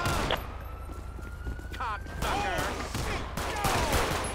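Gunfire erupts in GTA 5 with the LSPDFR police mod during a city patrol shootout, sharp shots crackling over sirens while someone talks throughout.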